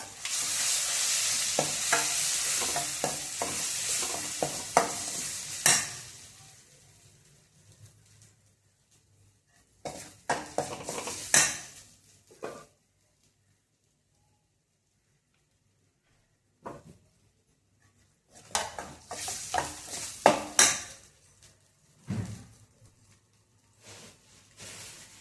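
A ground paste of soaked green chillies sautéing in a pan for cucumber mor kuzhambu, with close scraping stirs and a soft sizzle in bursts separated by quiet gaps, no talking.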